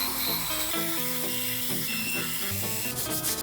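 A Dremel rotary tool polishes the frets of a Squier Mustang guitar, giving a steady, close grinding rub with a faint motor whine that runs unbroken throughout, with no talking.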